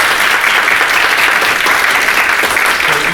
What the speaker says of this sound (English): please give a round of applause for Aoife Ward.